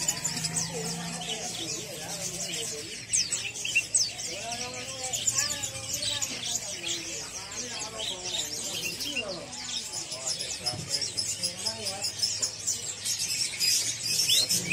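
A Javan myna (jalak kebon) calls amid a busy chorus of caged birds at Pramuka bird market, with continuous chirps and whistles and someone talking over them close by.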